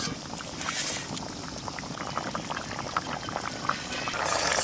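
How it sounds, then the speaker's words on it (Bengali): Fish curry gravy bubbles at a vigorous boil in a pot, a close, dense stream of popping and gurgling bubbles that swells slightly toward the end, with no voices. "ঝোলটা খুব সুন্দর ফুটে গেছে"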